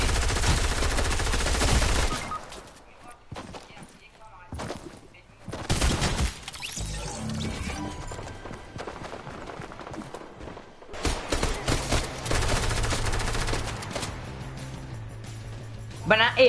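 Heavy shotgun blasts and automatic fire from a Fortnite match, several loud bursts broken by short quieter gaps, with players talking over the shooting.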